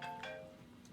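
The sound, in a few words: phone ringing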